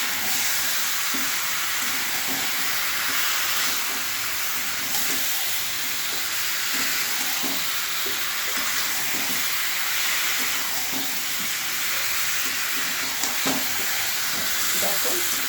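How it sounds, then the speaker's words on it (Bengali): Young eggplant frying with tomato paste makes a loud, continuous sizzle and hiss throughout. Scraping stirs sound now and then, and faint background noises sit under the frying. "দেখো বেগুন কচি সব ভাজা ভাজা হয়ে গেছে।"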